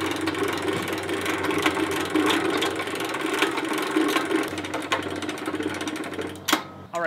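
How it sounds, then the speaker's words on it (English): Genie lift being hand-cranked to raise its fork and mast, a steady rapid ratcheting clatter of gears close by, continuous with a brief pause near the end. "So I can just keep cranking up, and as I get this fork all the way up to the top"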